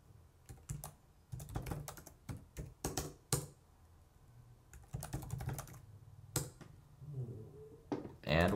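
Keys tapped on a computer keyboard while entering a username and password, coming as irregular bursts of quick clicks with short pauses, close and fairly quiet.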